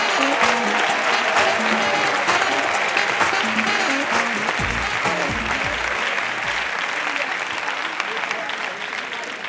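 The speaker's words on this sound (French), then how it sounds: "Sous vos applaudissements, Kader Nemer." A comedy show audience gives sustained loud applause to welcome a performer, a thick steady clatter of clapping with some voices and a few low thumps mixed in, easing slightly toward the end.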